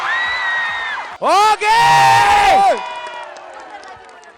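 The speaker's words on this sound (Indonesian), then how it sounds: "tepuk tangan dulu dong" Local high school students shriek, whoop and cheer loudly at close range in a school setting, the burst of high-pitched shouting then easing into a lower crowd murmur with scattered claps; a voice speaks briefly.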